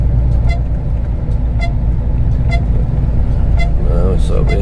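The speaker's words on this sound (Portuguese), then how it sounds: "isso é o excesso de caminhão mesmo" A road backed up with heavy truck traffic at an old state fiscal checkpoint in Minas rumbles with a steady low drone, and short horn toots sound now and then while people talk throughout.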